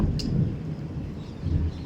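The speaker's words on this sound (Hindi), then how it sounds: "बादल बादल गरज रहे हैं" Low thunder rumbles from dark storm clouds, a steady deep roll filling the short stretch with a brief brighter crack near the start and a swell toward the end, with no voices.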